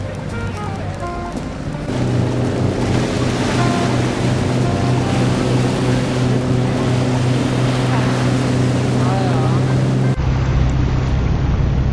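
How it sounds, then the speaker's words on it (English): A Thames cruise boat turns around on the river, its engine droning loudly and steadily over rushing water and wind noise, with a voice talking faintly in the background. "So we'll spin the boat around and we'll just stay on the boat"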